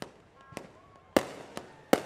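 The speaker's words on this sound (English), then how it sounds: "Firecrackers going off." Several sharp firecracker bangs pop at irregular intervals, a few loud and close, with faint background noise between them.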